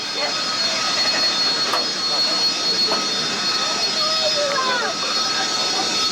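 Harrier jump jet at a 1988 airshow, lining up with a steady loud jet engine whine and roar sustained throughout, with faint background voices of spectators.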